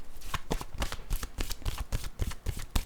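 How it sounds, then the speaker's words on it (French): A deck of tarot-style cards is shuffled by hand, a close, brisk series of riffling slaps and flicks repeating in an uneven rhythm with no talking. "Je vais mélanger l'autre jeu."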